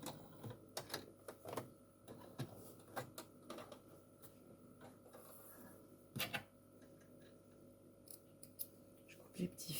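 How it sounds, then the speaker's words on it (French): Scissors snip small loose threads after zigzag stitching on a beginner's sewn pincushion, giving several sharp, close clicks spread across the clip over a soft background of handling noise. "Je coupe les petits fils"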